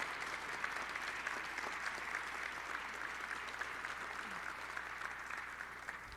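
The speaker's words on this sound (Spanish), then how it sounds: "quiero que todos le den un fuerte aplauso por tan importante evento" Steady applause from an audience at the closing ceremony of the 2023 Proveeduría trade fair, dense and continuous for the whole stretch at moderate distance with no talking over it.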